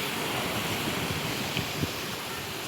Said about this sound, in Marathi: इथे समुद्राच्या लाटा खूप येत आहेत